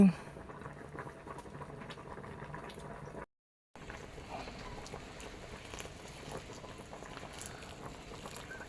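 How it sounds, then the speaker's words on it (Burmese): Water boils and bubbles in a pot for pork leg soup, a soft, steady bubbling patter heard at close range, briefly cut to silence partway through before the bubbling resumes. "ရေလေးထက်ပြီးတော့ပေါပွက်ဆူနေပြီ"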